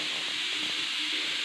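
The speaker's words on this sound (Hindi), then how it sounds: "जो पीछे से सीटी की आवाज़ आ रही है, तो उसमें मैंने कुकर में राजमा चढ़ा दिया है" A steady, loud hiss from a pressure cooker whistling with kidney beans (rajma) cooking in a home kitchen, continuous and unbroken throughout, with no talking.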